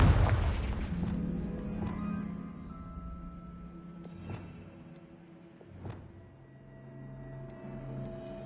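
A Confringo blasting spell goes off in Hogwarts Legacy, a heavy booming blast with a low rumbling tail, followed by a couple of softer thuds amid steady ambient game sound.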